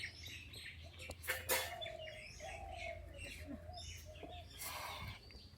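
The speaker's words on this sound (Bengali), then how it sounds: "এই যে সকালের ভোরবেলা না পাখির কিচির মিচির ডাক" Birds chirp and call in a village in the early morning, a few faint tweets and short whistled notes rising over a quiet, steady outdoor background, with no talk.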